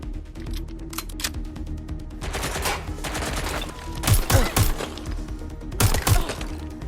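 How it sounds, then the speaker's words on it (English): Bursts of gunfire from the video game Watch Dogs: Legion crack out in rapid, repeated volleys, some like automatic fire and others as sharp single shots, fairly close and loud, in several separate clusters over a low background. "I'm hearing gunfire"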